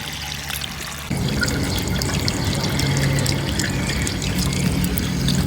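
Water running back down behind an Aco drain outdoors, a steady close trickling and pouring that turns louder and fuller after about a second and keeps flowing without pause.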